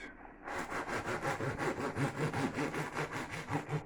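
A blunt kitchen knife saws back and forth through a sandwich loaf of bread, giving a steady run of close, rasping strokes about five per second.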